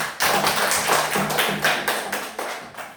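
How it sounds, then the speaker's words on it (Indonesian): Second-grade schoolchildren clap together in a classroom, a steady run of loud, close, overlapping claps with a regular pulse lasting the whole stretch, no talking over it. "Mari kita memberikan tepuk tangan."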